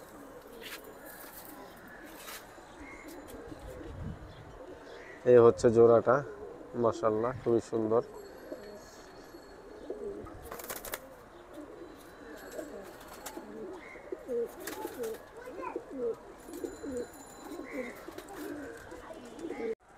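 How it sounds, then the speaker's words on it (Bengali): A pair of Jabra tota pigeons, male and female, coo softly in a cage, with a short burst of louder fluttering or cage rattle partway through, while someone talks over them throughout. "এটা হচ্ছে মাদি কবুতর আর এটা হচ্ছে নর কবুতর"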